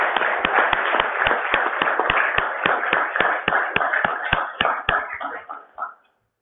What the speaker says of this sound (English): Can we get a round of applause for this?